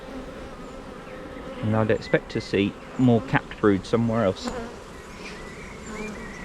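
Honeybees buzz at an open hive during a brood inspection, a constant close hum that runs throughout while someone talks over it in the middle.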